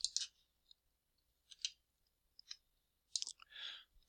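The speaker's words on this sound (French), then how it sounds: "Et je clique sur rechercher." A computer mouse gives several crisp, faint clicks spread irregularly across a quiet background, close by, with a short soft rustle near the end.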